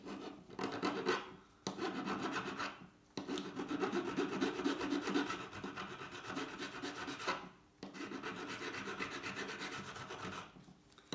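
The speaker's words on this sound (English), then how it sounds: "I'm starting with the file because there's quite some severe surface issues." A hand file rasps across the rusty frame of a vintage Atala gravel bicycle in long, rhythmic strokes with brief pauses between passes, close and fairly quiet, with no talking.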